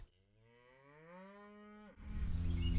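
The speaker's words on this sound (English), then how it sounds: "The picture shows a group of cows in a fenced area." Cows in a fenced area give one long, rising moo that carries for nearly two seconds and then cuts off, leaving a rush of rough outdoor noise.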